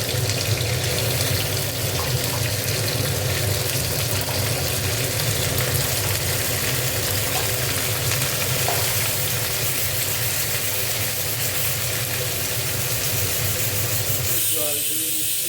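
Spice paste hitting a hot pan for a vegetarian soybean curry, giving a steady loud hiss and sizzle that runs unbroken throughout and drops away near the end.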